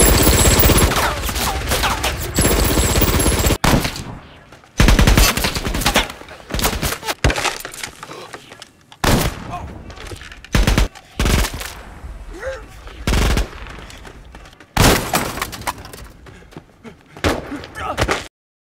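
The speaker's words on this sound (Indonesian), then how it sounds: "sniper misterius melakukan serangan dan melepaskan tembakan serta melempar beberapa granat" Battle sounds of sniper gunfire and grenade explosions: loud sharp bangs and bursts come in irregular volleys and clusters, with heavy blasts and quieter gaps between them.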